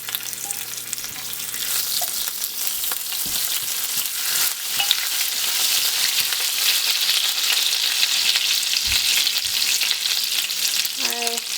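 Mustard seeds, cumin seeds and curry leaves fry in hot oil with a dry red chili. A dense, steady crackling sizzle builds and holds close by, broken by a few spoon clinks and stirs, with no voices.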